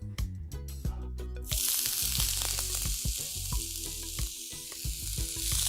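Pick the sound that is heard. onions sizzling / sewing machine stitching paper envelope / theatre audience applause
onions sizzling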